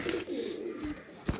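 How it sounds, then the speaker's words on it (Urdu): A female pigeon coos softly and briefly from close by, a low throaty murmur with a short louder note at the end, no voices over it. "اے واقعی بڑی اچھی کبوتری"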